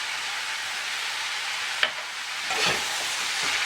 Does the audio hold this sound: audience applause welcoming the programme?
no